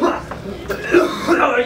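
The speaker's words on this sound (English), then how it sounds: "Oh, you can't stop coughing." A few short, rough coughs and throat-clearing bursts, fairly close, with faint voice sounds mixed in.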